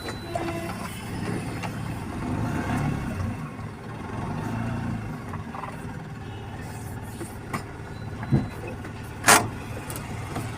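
Vehicle with a stuck top-gear lock being shifted into reverse: a low idling engine rumble throughout, then a few sharp mechanical clunks near the end.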